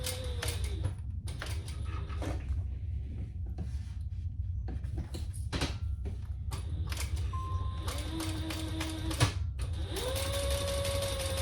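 A sewing machine stitches a belt bag in a series of short close bursts, with a pause in the middle and longer runs near the end, each start and stop giving a rising and falling motor whine.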